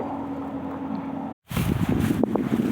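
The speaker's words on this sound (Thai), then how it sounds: "ลมหนาว ลมเย็น" Cold, dry wind gusting across an open rice field in winter, a steady broad rushing that cuts out briefly and then returns stronger and buffeting against the microphone.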